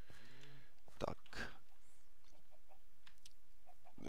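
Chickens clucking in the video game Minecraft, a few short clucks and a brief squawk spread over several seconds with quiet gaps between them.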